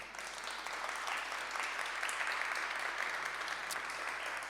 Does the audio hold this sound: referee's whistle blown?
no